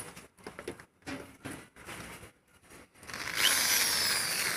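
A power drill bores holes in an electrical cabinet for a new home's 220VAC main panel. It runs in short repeated bursts with pauses between them, then settles into one longer, louder grinding run.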